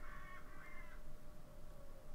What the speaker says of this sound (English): the Crows all just went off there